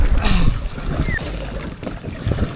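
Strong headwind buffets the microphone with a steady roar while boating on the Rhône in rain, mixed with splashing water and patter, close and loud throughout.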